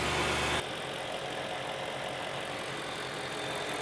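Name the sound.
BMW S65 V8 engine starting and idling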